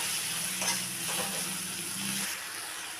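Garlic paste frying with softened onions in a pan for a koi fish kosha makes a soft, low hiss with a brief stirring scrape and a faint hum, quiet and close, without talk.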